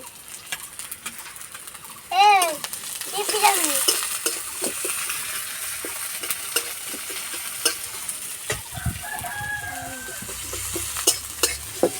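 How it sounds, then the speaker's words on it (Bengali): Onions fry in a pan for a masoor dal bharta, with a continuous sizzle, spatula scrapes and clinks, and a few brief chirping, voice-like sounds near the start. "এবার পেঁয়াজ ভেজে নেব"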